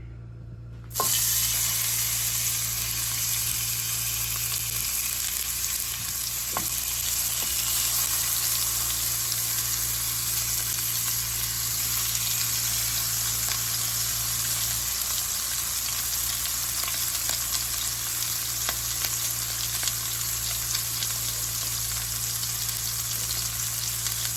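Pork chops and shrimp frying in vegetable oil give a steady, loud sizzle that runs unbroken and alone, with a faint constant hum beneath and occasional soft clinks.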